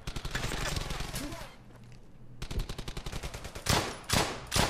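Rapid bursts of gunfire from the World War II shooter Brothers in Arms: Hell's Highway, loud close rattling volleys with a brief lull, then repeated shots and heavy blasts, with a voice talking over parts.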